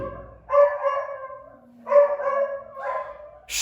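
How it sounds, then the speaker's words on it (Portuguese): Two drawn-out barks or yowls from a nearby dog, each followed by a quieter whine, separated by a short pause. "Até meus cachorros estão reclamando aqui"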